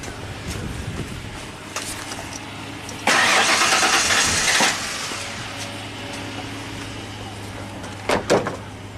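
A struggling, rich-running Ford Ranger engine cranking over a steady low hum, with a loud burst of starter grinding for about two seconds, then quieter running and a couple of short knocks near the end.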